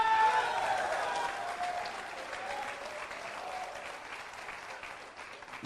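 Loud, sustained applause from a large crowd, steady clapping throughout with a slight fade toward the end.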